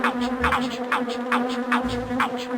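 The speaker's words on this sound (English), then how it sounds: "a mission that sees you having to drop beehives into houses before the bees emerge" Buzzing bees swarm in The Grinch on PlayStation 1, a steady insect drone with pulsing wingbeat swells repeating about every half second, fairly loud and close, with no talk over it.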